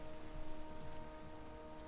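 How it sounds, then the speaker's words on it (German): Rain in the video game Valheim, heard as a steady, soft hiss of falling drops with a faint low hum underneath. "Bei mir regnet's."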